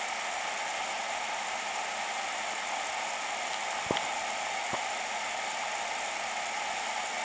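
A compact Chinese diesel air heater starting up with its glow plug heating, giving a steady broadband whooshing hum of constant level, with two faint clicks near the middle.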